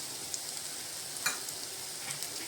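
Turmeric, red chilli powder and salt being stirred into roasted tomato in a hot pan for egg bhurji: a steady soft sizzle with a few scraping spoon strokes, close and alone.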